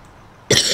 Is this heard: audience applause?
no